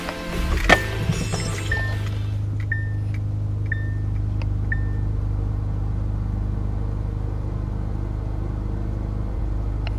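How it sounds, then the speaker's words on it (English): Loud engine intake rush through a cone filter on a car with its airbox deleted, a steady deep droning airflow heard from inside the cabin, with a brief knock near the start and a few short high chirps over the continuous roar. "you could probably already hear that freaking loud airstream right there"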